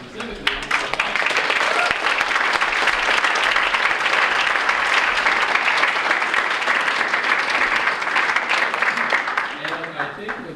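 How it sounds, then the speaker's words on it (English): An audience bursts into sustained applause at a talk on being prepared for an unpredictable life, dense steady clapping filling the room for around ten seconds before tapering slightly. "can we have a round of applause"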